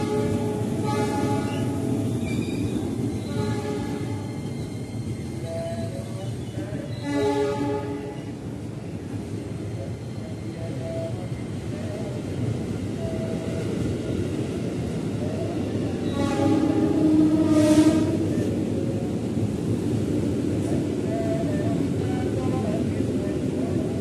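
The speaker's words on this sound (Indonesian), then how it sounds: "Jalur 11 dipersiapkan masuk kembali tujuan Jakarta Kota terdiri dari 10 kereta" A commuter train rumbles steadily into a platform at Manggarai station, with a horn-like tone and an Indonesian public-address voice speaking over the station noise.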